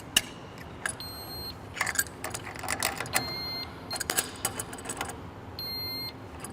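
A GED HMP-610 machine sounds repeated short electronic alarm beeps in spaced bursts, mixed with clicks, clatter and workshop handling noises, fairly quiet and close.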